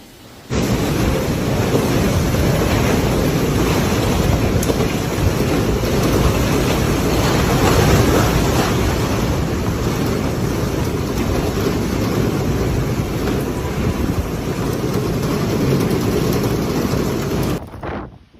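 Powerful wind from Typhoon Krathon lashing Kaohsiung, Taiwan, a loud, unbroken roar that stays steady and close for about seventeen seconds, with no voices and no pauses.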